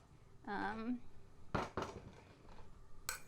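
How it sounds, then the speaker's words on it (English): Carrots and potatoes being stirred in a pot for a vegan chili, with a couple of close clanks and scrapes of a utensil against the pot; a brief voice-like tone precedes them. "And now we are going to mix in the carrots and the potatoes"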